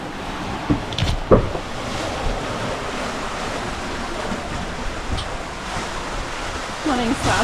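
Waves and wind on the open Indian Ocean during a sailing passage, a steady broad wash of surf with gusty wind noise on the microphone and a few brief louder splashes.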